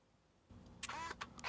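A Pentax Espio 838s compact film camera fires its shutter in backlight-compensation mode, followed by a whirring lens retracting and extending: a soft click, then a close motor buzz for about half a second, then further clicks and mechanical whirs.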